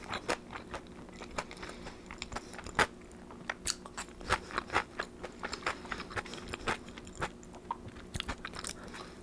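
A McDonald's Big Mac and fries being eaten up close, with crisp crunching bites, wet chewing and small crackles in an irregular rhythm, loud and intimate with no talking.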